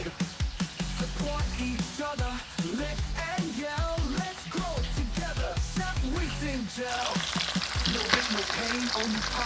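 Red snapper, parrotfish and goldfish frying Jamaican style in hot oil, a steady loud sizzle with faint clatter throughout while someone talks over it.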